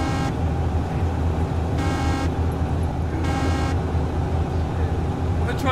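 Cars drive in the video game DayZ, a steady low engine drone with bursts of brighter horn-like tones repeating at intervals, all fairly loud throughout.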